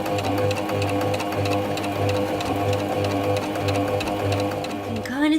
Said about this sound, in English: now I'm just starting to stitch the seat on